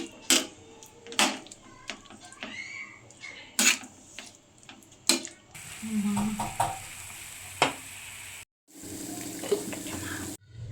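Prawns coated in spicy, sour ghee-based masala sizzle steadily in a pan while a spoon scrapes and stirs in sharp, repeated strokes, with a few quieter pauses and a brief moment of silence.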